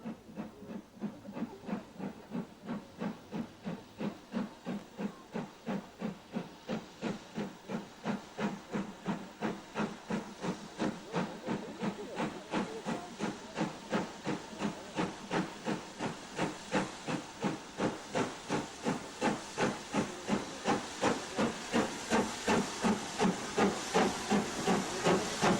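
The Britannia steam locomotive works hard on a mainline run over the Settle and Carlisle line. Its exhaust beats chuff in a steady rhythm that gradually quickens, over a constant loud hiss of steam, with no voices.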